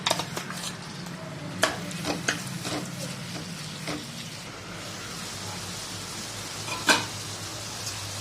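Prawns stir-fried in a pan with curry leaves and green chillies give a continuous close sizzle, with scattered clanks and scrapes from stirring.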